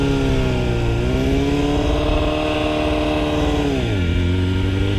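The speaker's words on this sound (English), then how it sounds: "you're gonna blip and add more gas" Motorcycle engine revving with throttle blips during wheelie practice, a loud, close roar that rises in pitch, holds, then drops back toward idle.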